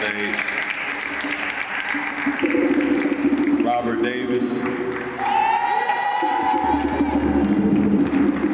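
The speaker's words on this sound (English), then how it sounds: "Let's give him a round of applause as he makes his way to the" A school flag-raising ceremony crowd claps and cheers as a person walks up to the stage, with steady applause running throughout and someone speaking over it on a microphone.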